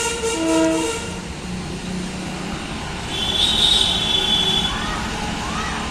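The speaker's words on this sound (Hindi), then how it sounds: "देखिए ट्रेन आ रही है यहाँ पे" A train approaches near a rail tunnel at Haridwar, a broad rumble rising and falling with brief horn-like tones ringing out over the steady noise.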